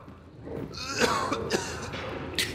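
A few throaty coughs and some throat clearing, close by, bursting out in quick succession over a low room hum.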